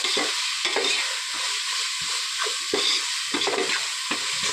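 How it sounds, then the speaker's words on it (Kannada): Chopped ingredients fry in oil for mushroom biryani. A bright, steady sizzle is broken by regular stirring strokes every half second or so, close up, with no voices. "ಇಷ್ಟು ಚೆನ್ನಾಗಿ ಎಣ್ಣೆಯಲ್ಲಿ ಫ್ರೈ ಆಗಬೇಕು"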